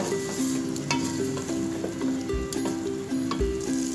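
Chopped beans are stir-fried in a pan with vegetables for mixed vegetable rice. A steady sizzle runs throughout, with a spoon scraping the pan at intervals and a few soft knocks. No one speaks.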